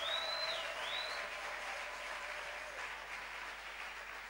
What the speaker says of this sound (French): Est-ce que tu peux donner une bonne offrande d'acclamation?